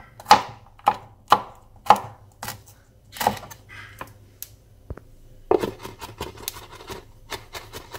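A knife mincing garlic and chili on a cutting board delivers sharp, irregular chops, some single and loud, then a faster run of lighter taps near the end, with no talking.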